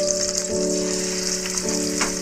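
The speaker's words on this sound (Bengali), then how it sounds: "তেলটা গরম হয়ে গেছে, এবার আমি এর মধ্যে মাছগুলো দিয়ে দিচ্ছি।" Small parshe fish frying in hot oil in a pan, a steady, dense sizzle that continues throughout with a constant hum underneath.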